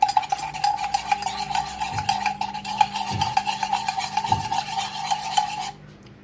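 A metal spoon stirring Turkish coffee grounds and water in a small pot, a steady close scraping and rubbing with faint taps against the pot's side, continuous for several seconds before stopping abruptly.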